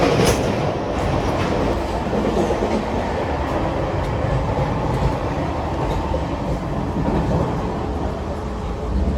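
Continuous heavy rumble of a train from Ahmedabad to Indore on the tracks, heard inside a three-tier AC coach, loud and unbroken, with wheel clatter and a brief sharp screech near the start.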